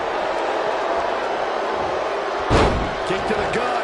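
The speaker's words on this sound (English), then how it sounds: "Bang! There he goes, crashing to the floor." In the WWE 2K20 video game, a wrestler crashes to the arena floor with a sudden heavy thud, heard over steady crowd noise and commentary.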